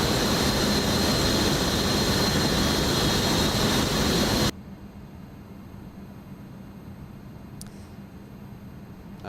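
An Embraer E145 jet in X-Plane 11 roars loudly during takeoff with a constant engine rush, then cuts off abruptly to a low, quiet hum, and a brief faint chirp follows.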